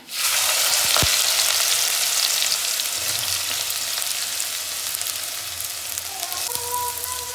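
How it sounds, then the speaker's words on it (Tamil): Onions hit a hot pan and fry with a loud, steady, close hiss that starts abruptly and stays dense throughout, with a few faint clicks from the pan. "வெங்காயம் வந்து சேர்த்துக்கிறேன்"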